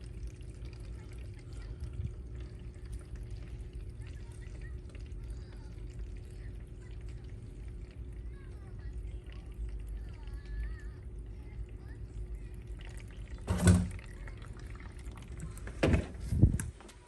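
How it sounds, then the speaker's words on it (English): Radiator coolant is drawn into a car's cooling system with a vacuum purge tool, a faint, steady low hiss and liquid trickle with a couple of brief louder gurgling bursts near the end. "This is a really clean way of adding radiator fluid."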